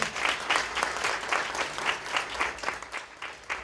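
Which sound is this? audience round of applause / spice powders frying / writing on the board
audience round of applause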